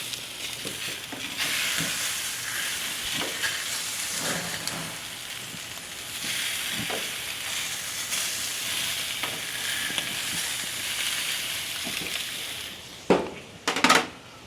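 Dry-brined rib eye steaks sear on a grill right after being flipped, giving a loud, steady sizzle that runs throughout, with a few sharp clatters near the end.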